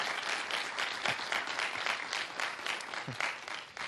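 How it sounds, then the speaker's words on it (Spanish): Audience applause for the guest speakers at a rural entrepreneurship round-table event, steady dense clapping from a hall crowd sustained for about four seconds without voices. "Os pido un aplauso primero para ellos."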